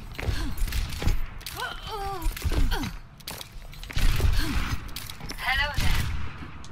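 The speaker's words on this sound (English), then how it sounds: "Who the fuck is shooting me in the back?" Gunfire rattles in a chaotic Overwatch match on PC, bursts of shots mixed with ability effects and in-game voice lines, while a player talks over the fight.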